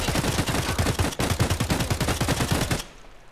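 Rapid automatic gunfire in Escape from Tarkov, a loud continuous burst of closely spaced shots lasting close to three seconds before cutting off abruptly.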